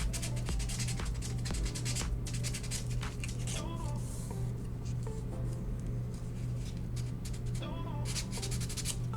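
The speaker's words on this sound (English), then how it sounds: "So I'm just going to sand and sand the places there." A wooden DIY piece is sanded by hand, giving soft, close rubbing strokes in an uneven rhythm over a steady low electrical hum.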